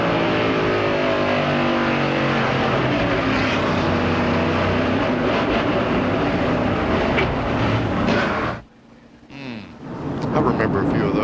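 In-car engine of a race car during the 1993 Richmond Cup race, a loud continuous high-revving roar that holds steady before cutting out sharply for a moment and then returning.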